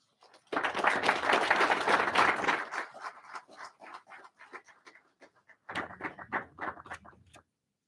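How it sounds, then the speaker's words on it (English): Audience applause at a special city council meeting for an assembly member: a dense, loud round of clapping for about two seconds, then scattered quieter claps, then a shorter second burst. "if we could please give him another round of applause"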